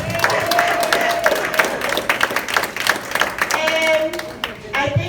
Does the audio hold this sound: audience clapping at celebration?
yes